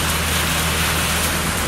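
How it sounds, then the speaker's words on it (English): Steady heavy rain pours down outdoors during a long 2015 trail hike, a constant broadband wash that fills the whole stretch evenly, with no voices. "All it's doing is just pouring down rain"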